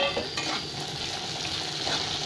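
Quartered country tomatoes fry in a pan with a steady, bright sizzle, while a utensil gives soft scraping stirs. The sound is close and continuous, with no talk.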